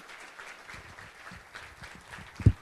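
An audience at a regional civic event gives a round of applause, a light, fairly quiet patter of clapping with a louder clap or thump near the end.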